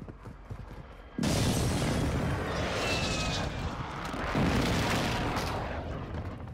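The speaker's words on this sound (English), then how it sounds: "Friendly airstrike in the AO." Rumbling, thunderous airstrike explosions in Warzone 2 erupt suddenly and keep rolling loudly for several seconds, with a second heavy blast swelling near the end.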